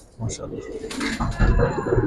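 Giribaz pigeons give short, close coos in a couple of bursts, with people talking nearby.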